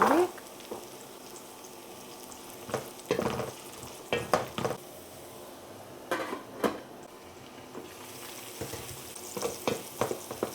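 Chopped onion and diced carrots frying in a pan, with a steady soft sizzle under repeated stirring and scraping strokes of a utensil against the pan.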